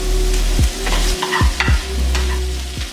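Black beans and vegetables warming in a pan for taco filling, a continuous sizzle with repeated spatula stirs and scrapes against the pan, close and fairly loud, without talk.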